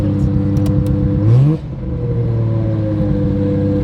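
A Nissan R32 GT-R with an RD28/RB26 hybrid engine, E85 fuel and full 4-inch exhaust idles loudly with a deep steady drone, blips up in a short rising rev around the middle, then settles back to a rumbling idle.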